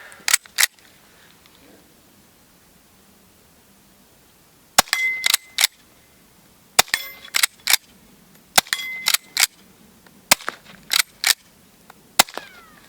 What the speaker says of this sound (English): Pretty good shooting, Annie Oakley.